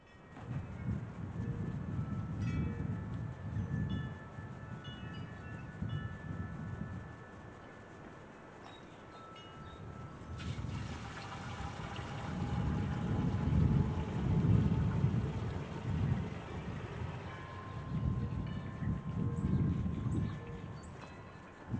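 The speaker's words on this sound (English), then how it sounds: "you guys are just going to have to deal with the wind" Outdoor wind buffeting a microphone fitted with a foam sock, a loud low rumble that surges and eases in gusts for the whole stretch, with fainter background hiss and no voices.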